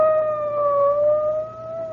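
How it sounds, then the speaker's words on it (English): A police car siren wails in a steady, sustained tone that rises and falls slightly, heard alone at moderate distance with a low background hum. "It's a police car. It's going that way, toward the Lansing house."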